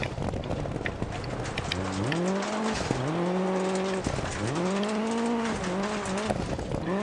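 A rally car engine in Dirt Rally 2.0 revs hard and close. It climbs and drops through repeated gear changes over a rough gravel hiss, with brief tyre skids between shifts.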